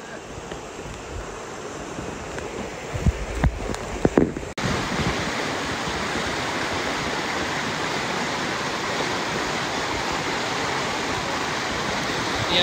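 A river flows with a steady, full rushing wash throughout, close and loud, with a few brief knocks and handling bumps near the start.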